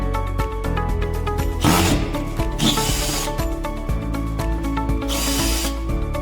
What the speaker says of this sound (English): Remove the power box. Remove these 10 screws.